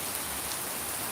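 Heavy rain falling, a dense, steady hiss of downpour that fills the clip without a break, close and loud.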